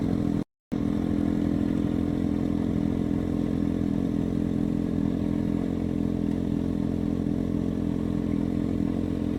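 Motorcycle pulling out from parking bays, its steady mid-range engine rumble running loud and continuous close by, with a brief dropout near the start and no talk over it.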